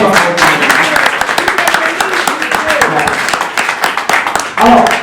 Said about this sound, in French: Encore un nouvel applaudissement pour eux.